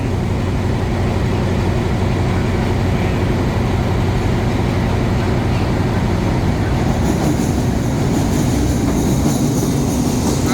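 A train passes close by at Makkasan station in Thailand, a loud continuous rumble of wheels on rails, with a brighter metallic squeal rising near the end.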